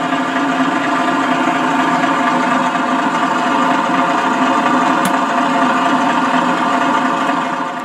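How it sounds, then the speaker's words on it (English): A Tamiya 1850L model truck's sound system plays a simulated engine rumbling steadily at idle after a throttle blip start, a dense, continuous drone with a brief sharp tick partway through, no voices. "Another little throttle blip and the engine starts."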